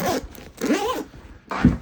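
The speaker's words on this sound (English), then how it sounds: "Why does this bag have 4 zippers?" The zipper on a CTactical CT10 backpack sling is pulled in three quick rasping strokes, close and clear, with short pauses between them.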